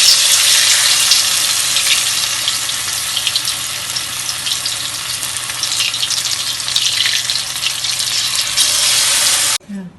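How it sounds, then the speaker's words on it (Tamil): Batter-dipped sweet tapioca bondas fry in hot oil, a loud, steady, dense sizzle that carries on unbroken for nearly ten seconds before cutting off abruptly. "இந்த மாதிரி மாவில் டிப் பண்ணி நம்ம இந்த மாதிரி எண்ணெயில் போட போகிறோம்"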